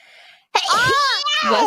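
After a brief hush, one sharp, loud sneeze bursts out and trails into a drawn-out voiced wail.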